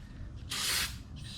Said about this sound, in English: Spray a little carburetor cleaner through it.